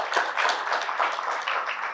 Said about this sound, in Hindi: तो इनके लिए एक बार ताली।